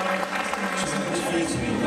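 A crowd at a Lega Nord party in Piazza Cavour, Saluzzo, applauds the local volunteers: dense, steady clapping, fairly close and sustained throughout.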